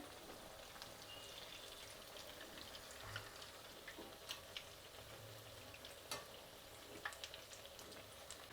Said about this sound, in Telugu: ఇప్పుడు దీన్ని వేసి డీప్ ఫ్రై చేస్తున్నాము